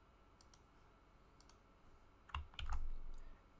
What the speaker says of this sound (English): we're gonna put our own password